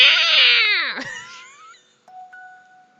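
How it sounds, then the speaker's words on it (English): In the video game Kitty Love, a calico cat lets out a loud, wailing meow that slides downward, followed by a hiss and softer tonal game sounds, with no one talking. "This calico cat was hissing at me still and started getting closer."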